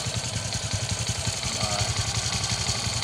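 A flood-damaged motorcycle engine runs with a rough, pulsing idle, a fast mid-pitched chug with clattering overtones, close and steady throughout.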